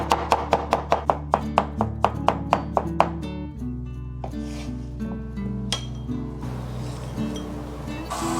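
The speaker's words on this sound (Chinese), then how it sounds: "山药的话我们直接削皮完，然后稍微拍一拍，给它切成小块" A knife chops peeled Chinese yam into small pieces on a cutting board, a fast, steady run of about a dozen crisp knocks up close, then quieter clinks and scraping.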